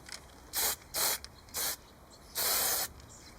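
Heat-resistant spray paint hissing from an aerosol can onto a motorcycle cylinder head, four loud bursts with the last one longer, heard close and alone.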